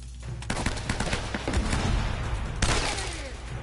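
Gunfire in Uncharted 1, rapid bursts of shots crackling close and loud, with heavier impacts and a sharp crack near the end amid ongoing combat noise.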